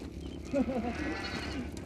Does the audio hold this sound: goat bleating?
yes